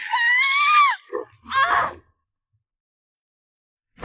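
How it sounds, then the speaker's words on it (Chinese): A woman's high, strained scream in a zombie animation, loud and sustained for about a second, followed by a short gasp and a second shorter cry, then silence. "你有没有听到尖叫的声音？"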